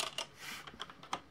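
Computer keyboard typing while entering text into a Chrome browser search bar: a short run of quiet, close key clicks at an uneven pace, with no voice.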